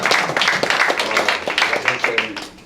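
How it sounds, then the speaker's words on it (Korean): Audience applause at a Korean gathering, several seconds of brisk clapping from a group with distinct individual claps audible, tapering off toward the end. "다시 한번 우리 박수를 건네주시죠"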